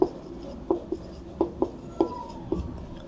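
Pen writing equations by hand on paper during a class 12 math lesson, a few faint scratchy strokes and taps in a quiet room.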